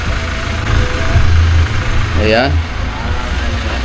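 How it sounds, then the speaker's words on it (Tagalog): A van engine idles low and steady while warming up, a constant rumble under a voice, with a short chirping sound rising briefly near the middle. "Pinapainit lang yung makina."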